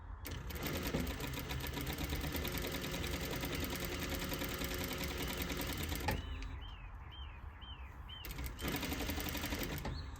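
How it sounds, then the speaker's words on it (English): A sewing machine runs a long basting straight stitch on a zipper seam. It gives a loud, steady rapid mechanical whir, pauses for about two seconds, then starts again. "Put my needle down and sew straight stitch"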